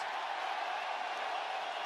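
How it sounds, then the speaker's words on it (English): UFC arena crowd roaring steadily in appreciation as a doctor checks Josh Emmett, a dense, distant wash of cheering and whoops with no single voice standing out. "crowd voicing its appreciation"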